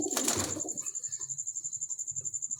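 Ferozpuri pigeons coo in a regular, rhythmic series of soft, low calls after a brief flutter and rustle at the start, close and clear against a faint high hum.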